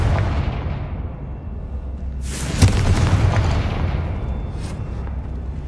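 The Confringo fire spell from the Hogwarts Legacy video game bursts in a single loud booming blast that rises out of a steady low rumble and then fades back into the background.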